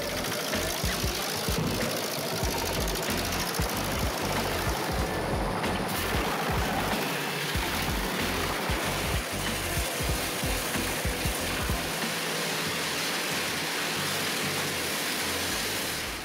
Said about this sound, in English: The simplicity and efficiency of the 218 drum wood chipper makes it an essential tool for small to medium-sized woodworking operations